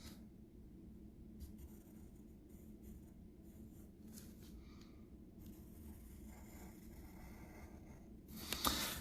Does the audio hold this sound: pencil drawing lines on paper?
yes